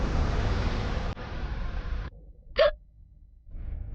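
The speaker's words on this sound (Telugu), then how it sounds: "ఎక్కిళ్ళు వస్తుంది." A woman in a Telugu TV drama gives a single sharp hiccup after about two seconds of steady broadband hiss, followed by near silence and then faint background noise.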